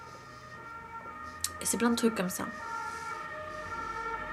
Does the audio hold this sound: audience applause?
no